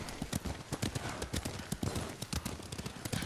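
A horse trots in the video game Ghost of Tsushima, its hooves giving a steady, quick clip-clop that is fairly quiet over a wash of ambient background noise.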